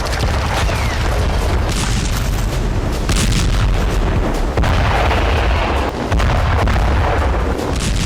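Heavy explosions from strikes destroying buildings in Gaza form a loud, continuous rumbling roar of booms and blasts that fills the whole stretch without a break.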